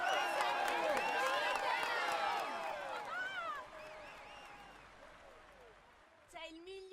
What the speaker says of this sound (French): Allez, on l'applaudit encore.